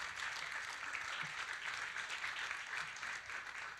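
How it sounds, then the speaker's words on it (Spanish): Sustained applause from a church congregation welcoming a visiting preacher, a steady wash of many hands clapping at moderate distance, fairly soft and even throughout with no talking. "quiero que lo recibamos con un aplauso"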